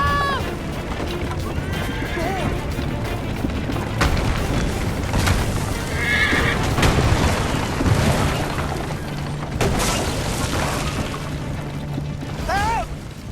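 Horse neighing loudly in Assassin's Creed III Liberation, with several whinnies, clip-clopping hooves and booming blasts from a burning warehouse scene, with occasional shouted voices.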